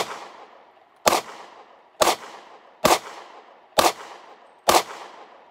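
A Kahr P40 pistol fires five sharp, loud shots about one second apart during break-in shooting, each with a short ringing tail.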